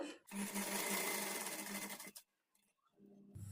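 Sewing machine stitching blouse sleeves, one close burst of fast, steady whirring for about two seconds, then stopping into near quiet with faint handling sounds.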